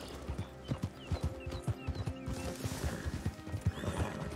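A horse in the Red Dead Online video game neighs and whinnies while its hooves clip-clop in a steady, repeated rhythm, close and fairly loud, with music or ambience beneath.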